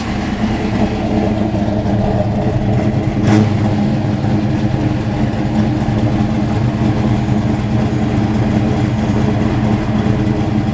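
The V8 of a 1980 Chevrolet Camaro Z28 runs at a steady, loud idle nearby, a continuous even rumble with one brief sharper blip partway through. No one speaks.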